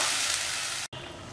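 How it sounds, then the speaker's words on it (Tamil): Brinjal kulambu gravy with tomato and masala paste boiling in a pan, giving a steady close hissing sizzle with a brief dropout near the end, no voices. "இப்போ பாருங்கள் குழம்பு கொதிச்சிருச்சு"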